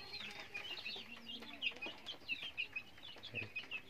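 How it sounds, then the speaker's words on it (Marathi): A village hen clucks softly while pecking feed out of husk spread on the ground, making a run of quiet, repeated short clucks at close range with faint rustling beneath. "आता ही बघा कोंबडी शोधून शोधून खात आहे."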